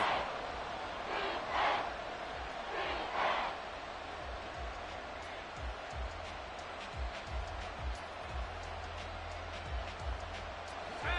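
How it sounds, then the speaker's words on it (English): Football stadium crowd cheering through a big third down, a loud, continuous roar with surging swells, heard steadily throughout. "the crowd getting into it as we come up on a big third down"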